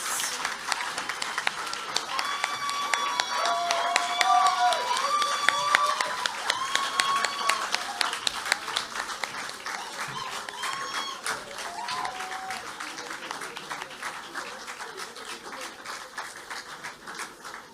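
Steady audience applause for a Youth of the Year award winner at a youth awards ceremony, a broad clapping wash that swells early and then holds at an even level, with soft music tones faintly underneath.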